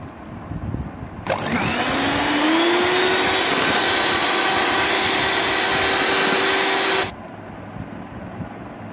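An electric mixer beating cake batter for a vanilla sponge cake switches on sharply, whines loud and even for about six seconds, then cuts off, leaving quiet room noise.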